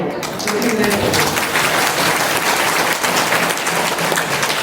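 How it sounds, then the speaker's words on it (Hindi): An audience at a religious satsang gathering claps steadily, a loud, dense, sustained applause filling the hall with little else heard. "माताओं बहनों को तो ताली बजाना चाहिए"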